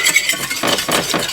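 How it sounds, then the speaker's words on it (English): A whisk scrapes and clinks quickly in a very hot pan as flour is beaten into melted butter for a lasagna sauce, brisk rhythmic strokes up close with no talking. "I throw in the flour and whisk quickly"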